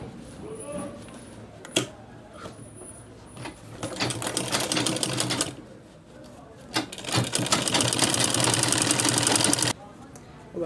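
A sewing machine stitches the sides of a fabric travel bag in two long, rapid, rattling bursts separated by short pauses, with a few clicks and handling noises at the start.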